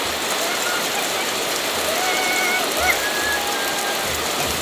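Rain falls steadily on an off-grid farm, a broad hiss of drops on surfaces with a few faint thin chirps over it and soft low thumps beneath.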